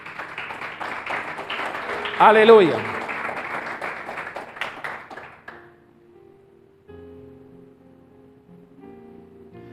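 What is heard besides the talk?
church congregation applause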